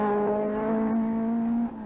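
A 270 brake horsepower Opel Manta rally car on the 1986 Donegal Rally holds a loud, steady engine note under load, close and sustained for a couple of seconds before easing off.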